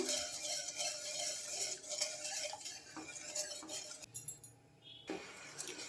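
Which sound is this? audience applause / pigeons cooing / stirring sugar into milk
stirring sugar into milk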